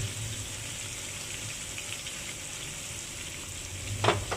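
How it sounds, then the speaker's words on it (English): Garlic sizzles steadily in a pan over a low flame, a close, even frying hiss with a short clatter near the end. "Time to add in the garlic."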